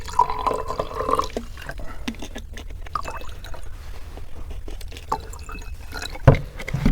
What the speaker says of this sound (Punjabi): ਪਾ ਵੀਰੇ ਪਾਣੀ।